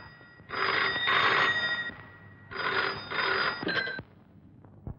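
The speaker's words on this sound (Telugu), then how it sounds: "ఇన్నాళ్ళకి మళ్ళీ గదిలో ఫోన్ మోగింది." A telephone rings in a room in two clear bursts, each a pair of trilling electronic rings with a short pause between them, fairly loud and with no voices over it.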